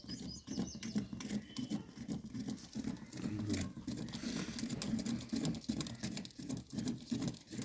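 Light early-morning drizzle patters outdoors in a continuous soft tapping of small drops, fairly close and even, with no one speaking.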